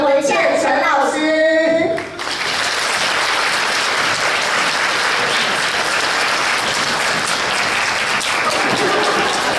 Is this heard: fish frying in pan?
no